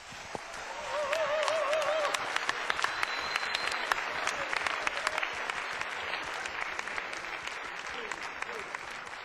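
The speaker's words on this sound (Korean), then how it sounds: "두 명의 프로게이머에게 다시 한번 큰 박수를 부탁드립니다" A large live audience at a StarCraft tournament hall, Konkuk University's millennium hall, breaks into sustained dense applause, loud and continuous with sharp individual claps standing out, while a faint announcer voice carries underneath.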